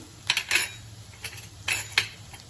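Potato pieces go into a pan of fried onion while poha is cooked, landing with a few sharp metallic clinks and scrapes in two short clusters at close range, and no one speaks.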